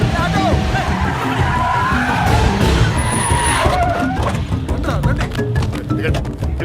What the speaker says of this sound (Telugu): ఆటో వెళ్ళిపోతుంది